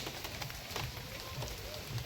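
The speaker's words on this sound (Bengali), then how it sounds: "ঝিমঝিমে বৃষ্টি হচ্ছে, হালকা হালকা বৃষ্টি।" Light drizzle patters on surfaces in a monsoon village by a riverbank, a soft, even hiss of fine raindrops at a distance with no voices.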